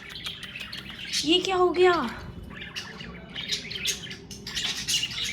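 Pet birds chirp and squawk close by in short bursts, with one louder trilling call standing out, while people talk over them in a household setting.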